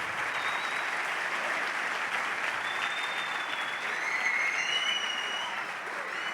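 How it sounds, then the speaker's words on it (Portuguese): A church congregation at a Holy Fest service applauds, a broad, even roar of many hands clapping heard from a distance, sustained without break, with a few faint whistles or tones rising above it. "Aleluia, pode aplaudir o Senhor"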